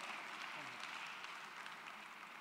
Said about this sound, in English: Put your hands together again for mothers.